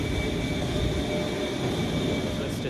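Steady rumble and whine inside a double-decker train in France, a continuous close drone with faint voices underneath.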